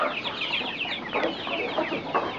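Several Kate bantam chickens cluck and chatter continuously at close range, a busy overlapping flurry of clucks with no talking.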